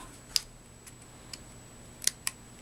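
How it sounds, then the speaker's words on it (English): Scissors snip through a strip of black cardstock for paper-craft eyelashes, giving a few quiet, crisp cuts spaced apart in a hushed room. "take a strip of black cardstock and my scissors and just went like so"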